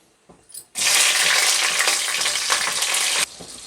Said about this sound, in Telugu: కొంచెం ఫ్రై అవ్వాలి ఒక నాలుగు పచ్చిమిరపకాయలు